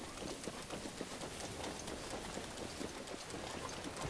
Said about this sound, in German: Schön auch, dass es jetzt wieder regnet ohne Ende.